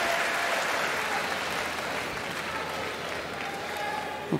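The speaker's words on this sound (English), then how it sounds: "The crowd is appreciating it. Good round of applause." Sustained crowd applause fills an arena during a session of the 2019 World Judo Championships, a steady broad wash of clapping that holds at an even level throughout, with faint commentary voices beneath it.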